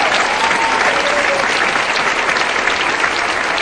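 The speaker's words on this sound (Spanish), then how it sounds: "Si yo fuera usted, aplaudiría fuerte al Rey en esta hora." A church congregation applauds loudly at a service of the Ministerio Internacional Jesucristo Pan de Vida, dense sustained clapping filling the room with no pause.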